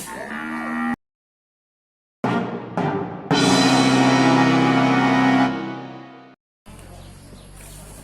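Cattle at a Thai livestock market low loudly and close, a couple of short calls followed by one long, drawn-out moo, with brief silences between and faint background chatter at the end.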